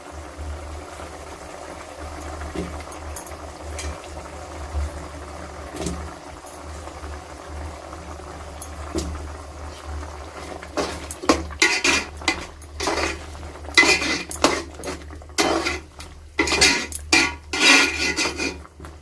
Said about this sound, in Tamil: கத்திரிக்காயும் உருளைக்கிழங்கும் ஆட் பண்ணுறேன்